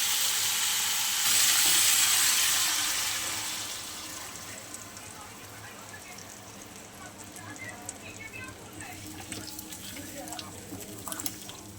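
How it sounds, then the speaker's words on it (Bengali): Water poured into a pan of lightly fried food, a loud hissing sizzle surging for a few seconds then settling into a quieter steady simmer with small crackles, someone speaking over it. "ভেজে নিয়ে জল দিয়ে দেবো চলো জল দিয়ে দিই"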